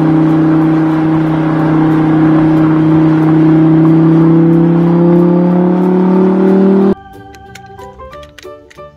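A green toy supercar with an engine sound effect, a loud sustained electronic revving whine that rises slowly in pitch for about seven seconds, then cuts off into quieter toy chimes and clicks.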